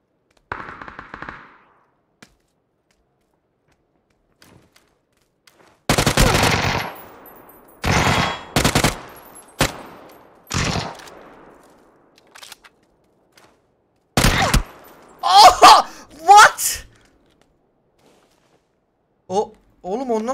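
Gunfire in a solo video game match, with several loud bursts of rapid automatic shots separated by quiet gaps, plus a few brief single reports near the end.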